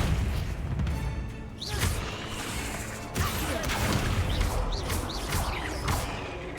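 Confringo explosion spell in Hogwarts Legacy, a series of loud booms and crashes with whooshing bursts, packed closely over a steady rumbling game soundscape.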